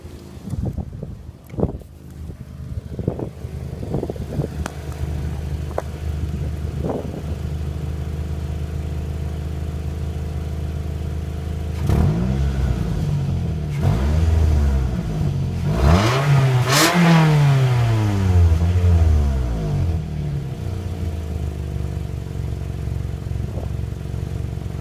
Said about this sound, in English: Alright, I'll do a couple revs for you.